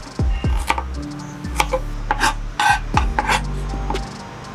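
Vegetables being diced with a knife on a wooden board for a Ugandan Rolex, close and loud, with sharp irregular chops and scraping strokes between them, no talking.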